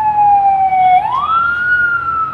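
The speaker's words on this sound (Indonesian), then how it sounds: "Soalnya lagi ada kejadian gitu, ada bunyi-bunyi sirine." A loud, close emergency vehicle siren on a Jakarta street wails steadily, its tone dipping and then sweeping upward into a higher sustained pitch.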